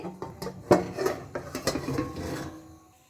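Metal clattering and scraping in a kitchen: a few sharp clanks of a metal plate lifted off a hot wok, then quieter rubbing, close by with no talk.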